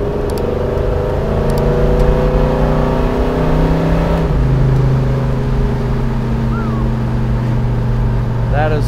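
Loud, close engine roar from a 1970 Chevrolet Chevelle SS 454 big-block V8 pulling steadily through a turn, a smooth continuous drone whose pitch climbs and shifts as it accelerates, heard from inside the car.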